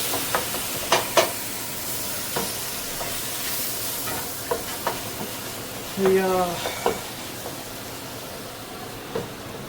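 Tomatoes for a grouper-head curry sizzle in a pan with a steady frying hiss, punctuated by scattered stirring scrapes and clinks, with a brief louder scrape midway.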